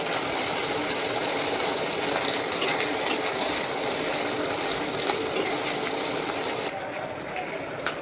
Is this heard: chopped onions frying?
yes